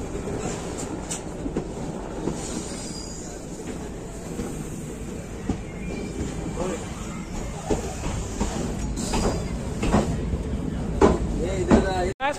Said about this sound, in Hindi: आ चुके हैं हम कटरा रेलवे स्टेशन पे